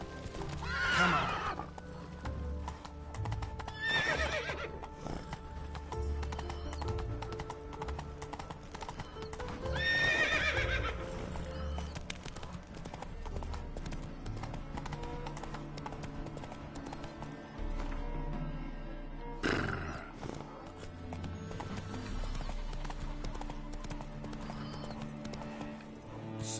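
A horse in The Witcher 3 gallops with steady clip-clop hoofbeats over a game soundtrack, neighing loudly several times along the way, near and continuous.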